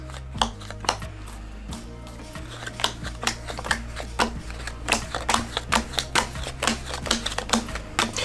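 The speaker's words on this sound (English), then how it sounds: "I'm going to deal out the cards." Playing cards dealt out one by one for a poker card trick, a run of crisp, quick flicks and taps that grows busier and more regular toward the end, heard close up over a low steady hum.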